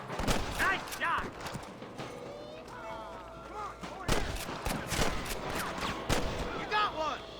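Gunfire in the Red Dead Redemption shootout crackles in sharp bursts and scattered single shots, some near and loud, some farther off. Game characters shout over the fighting.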